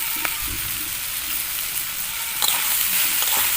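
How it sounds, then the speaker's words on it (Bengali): Lightly fried mixed vegetables with turmeric and salt are stirred in a hot pan, with a loud continuous sizzle and soft scraping strokes up close. "আবারও আমি সব কিছু নাড়াচাড়া করে নেব"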